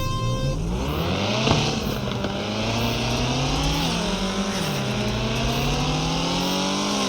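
A Mazda RX-7 engine wails in the FR Legends drifting game, a loud sustained high-revving whine that rises and dips as the car slides, heard alone without talk.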